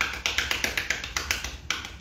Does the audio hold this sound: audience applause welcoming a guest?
yes